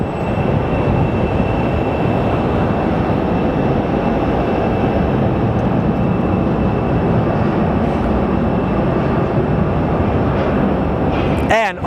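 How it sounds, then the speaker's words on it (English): A Boeing 777 airliner rolls in at Phoenix Sky Harbor Airport, a broad, steady roar of engine noise sustained throughout at moderate distance, with a faint tonal whine above it. "777 rolling in."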